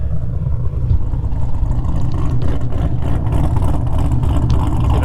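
An LS V8 engine in a BMW E36 rumbles loudly up close on a cold start in snow, its low roar swelling and holding steady as it is revved.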